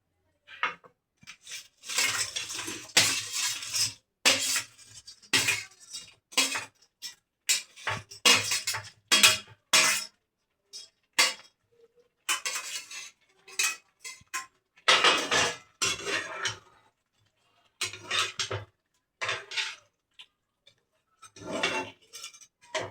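Pakoras are added to green chilli chicken with cornflour slurry and chopped green chillies in a pan. A metal spoon or spatula clatters and scrapes against the pan in repeated sharp bursts separated by silences. The sounds are close and fairly loud, with no talk.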